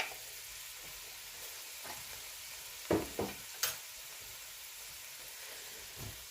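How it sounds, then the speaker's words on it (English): Chopped yellow onion sizzling in a pot of cooked meat for lasagna, a soft steady frying hiss with a few sharp clacks of a spoon stirring, close and fairly quiet, no talking. "Now to this, I'm going to add 1 large chopped yellow onion,"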